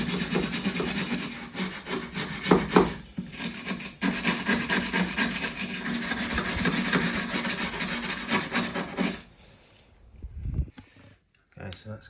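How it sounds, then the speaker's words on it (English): Vigorous wire brushing of rusty metal on the floor of a Mercedes Sprinter van, with close, harsh scraping strokes for about nine seconds before it stops and a few faint knocks follow. "let's give that a really good wire brush over"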